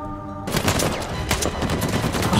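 Sustained rapid gunfire in Uncharted 4, a dense close automatic burst starting abruptly after a quiet moment and continuing loudly to the end.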